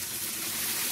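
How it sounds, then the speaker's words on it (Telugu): Water is poured briefly into a hot pan of village-style stuffed brinjal curry with masala, a short, steady close-up gush with a faint sizzle. "కొద్దిగా నీళ్ళు వేసేసుకున్నాం."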